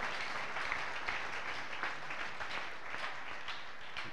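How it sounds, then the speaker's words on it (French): A church congregation at a spiritual-warfare sermon applauding steadily for Jesus, a dense, even wash of many hands clapping at moderate distance without distinct voices. "Est-ce que tu peux acclamer pour la gloire de"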